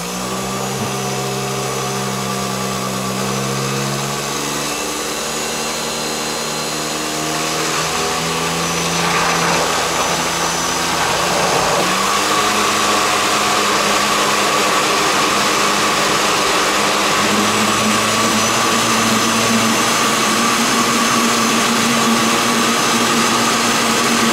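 A countertop blender running on its liquefy setting while blending a wing marinade, a loud continuous motor whine that shifts pitch partway through, steady and close with no talking.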